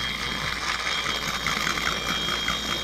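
A two-stroke chainsaw fitted with a straight pipe runs steadily at high revs, giving a harsh, buzzing scream with a rattling edge that holds at an even loudness with no pauses.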